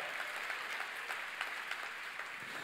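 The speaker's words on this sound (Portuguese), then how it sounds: "Dá outra salva de palmas ao Senhor." Church congregation clapping in praise, a sustained wash of applause from many hands, fairly soft and steady with no voices over it.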